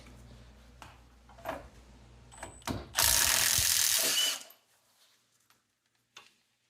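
A ratchet clicks through a short burst of turns on a socket while working on the lower ball joints of a Jeep Grand Cherokee, loud and close, with a few scattered mechanical taps before and after.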